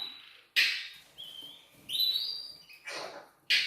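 An African grey parrot calls up close, loud raspy squawks alternating with clear rising whistles and chirps in an irregular run of bursts.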